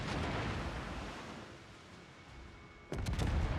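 A warship's guns fire high-explosive shells in World of Warships, a low rumbling boom fading off before a sudden loud blast near the end.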